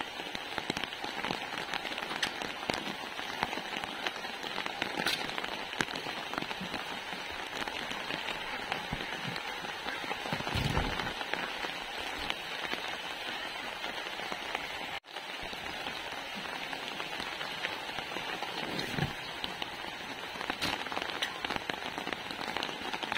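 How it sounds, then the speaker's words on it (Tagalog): Steady rain falls on an outdoor surface, likely around livestock, as a dense, even hiss that continues without pause for the whole stretch, with no voices. "mahirap pag umuulan"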